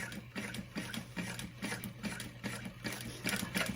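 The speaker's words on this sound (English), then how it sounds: "So you're just going to sew in a U shape around your interfacing" A sewing machine stitches a U shape around the interfacing of a crossbody bag, its needle chattering in quick rhythmic bursts with short pauses between runs, close and steady with no talking.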